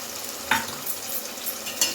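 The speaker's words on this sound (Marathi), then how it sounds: "ते कच्चं आहे म्हणून जरा 5 मिनिटं त्याला पण थोडं 5 मिनिटं परतवायचं आहे।" Ground green coriander and chili paste sautéing in a pan while biryani is being made: a soft, steady sizzle with a few sharper scrapes of stirring, close and fairly quiet.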